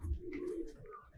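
Soft, low cooing from a pigeon at a loft of fancy show pigeons, a single murmuring call held close and fairly quiet, with no talk over it.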